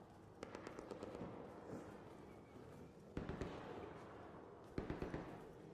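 Gunfire from the game Arc Raiders, several short bursts of rapid shots at a distance, fairly faint against a steady background rumble.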